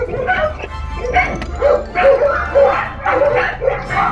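Excited dogs bark and yip in quick bursts at a kennel home, several close, loud barks with whimpering between them in an uneven, energetic rhythm.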